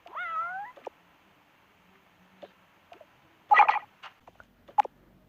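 A single cat meows at the start in the video game Toca Life World, a clear rising-falling cry, followed by quiet stretches with scattered clicks and short bursts of noise.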